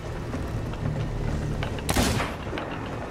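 A ship's cannon fires at the kraken in Sea of Thieves, a single sharp heavy blast cutting through steady sea-and-wind rumble, followed by a brief rolling decay.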